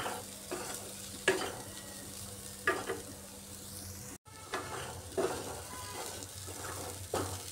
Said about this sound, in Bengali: সব কিছু দিয়ে আলু আর ডালটাকে একটু কষিয়ে নিচ্ছি মশলার সাথে।